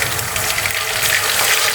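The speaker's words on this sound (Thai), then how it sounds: "น้ำมันร้อนแล้วนะครับ หมูนะครับ ที่เราหมักไว้แล้วครับลงเลยครับ" Marinated pork, prepared in Thai Maggi fried pork style, goes into hot frying oil. A loud, steady hissing sizzle runs through the brief moment with no voices over it.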